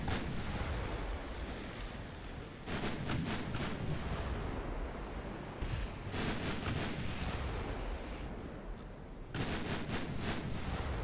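Naval guns fire from warships in the Dreadnought game during a Japanese campaign battle. Several bursts of rapid, booming shots break over a dense, continuous roar like surf.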